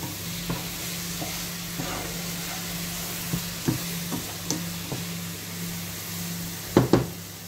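Apple filling for small puff pastries cooks in a pan with a steady sizzle, broken by several sharp stirring knocks and scrapes, two louder ones near the end.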